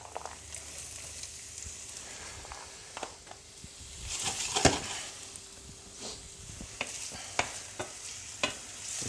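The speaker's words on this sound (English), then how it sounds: "Once the oil starts to warm up, add our onion in there." Onion sweating in warm oil in a pan while cooking lamb roast stuffing, a quiet, soft sizzle with intermittent stirring scrapes and clicks, close but faint and with no talk.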